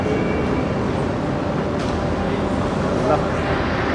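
A long train sits or moves at a station, giving a low, continuous rumble with faint metallic rattles, while someone talks over it.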